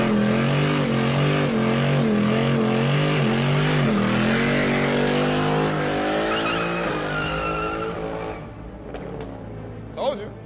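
A car with a Toyota 2JZ engine does a burnout at a New York City underground car meet, a loud, sustained engine roar swinging in pitch under continuous tire squeal, fading out after about eight seconds, with voices in the background.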